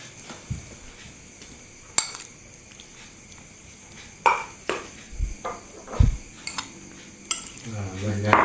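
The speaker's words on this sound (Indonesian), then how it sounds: "Tumis kangkung." Water spinach (kangkung) stir-fried in a pan, heard as a spatula scraping and clanking against metal in irregular strikes over a low background sizzle.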